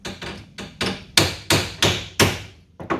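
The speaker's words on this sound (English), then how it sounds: "I'm going to attempt to hit it with a hammer" A hammer strikes the frame of a folding camper about ten times in an uneven rhythm, each blow a sharp, ringing metallic hit with a short decay, close and clear with no talking.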